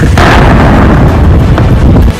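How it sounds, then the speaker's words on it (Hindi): A burning Russian warship sounds with a dense, heavily clipped roar of blasts, one sharp burst near the start, then sustained booming and crackle, loud and distorted throughout, no speech. "जहाज में बार बार धमाकों की आवाज सुनाई दे रही है।"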